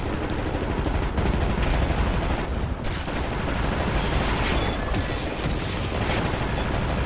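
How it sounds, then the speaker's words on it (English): Sustained suppressing gunfire in the first-person shooter Wolfenstein: The New Order, with dense overlapping bursts and shots rattling continuously at close range and no speech. "you ready to lay down suppressor fire?"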